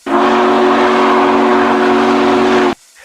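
A loud, steady whistle from a ride-on scale model Southern Pacific GS4 Daylight steam locomotive blows for nearly three seconds, a strong sustained tone that cuts off abruptly, close and alone.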